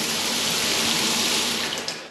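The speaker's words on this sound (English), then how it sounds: "So if we turn that off and we turn the hot on," Hot water pours steadily from a concealed shower, a close, loud, continuous hiss of running water with no talking.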